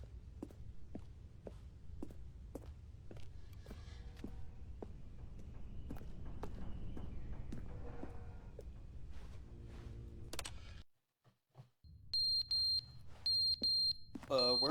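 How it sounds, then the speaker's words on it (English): A fallen clock in The Stanley Parable beeps in a regular, evenly spaced pattern through most of the stretch, with footsteps underneath and a short near-silent gap before brighter tones near the end. "Where's that beeping coming from? Oh, the clock fell."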